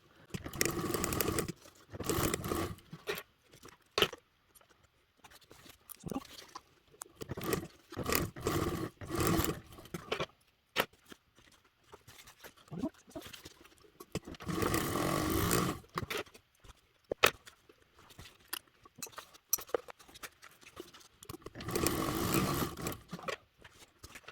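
A sewing machine top stitches fabric in bursts of fast, buzzy motor whirring, several runs of stitching separated by quiet pauses and small handling clicks.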